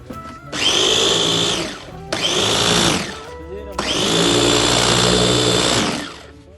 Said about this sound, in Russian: у нас в наличии вот такой вот измельчитель от фирмы VTech, мощность 250 Вт, емкость 2 литра